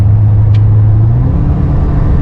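Ten-year-old Honda Accord 2.4 i-VTEC automatic pulling hard at highway speed, a steady loud engine drone and road rumble with a rising tone, heard from inside the cabin throughout.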